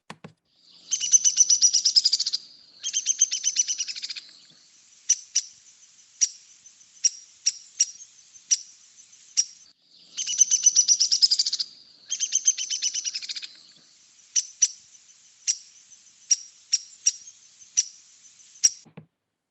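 Recorded woodpecker calls played back: bursts of rapid chattering trills alternate with series of sharp single calls, clear and fairly close, with no talking over them.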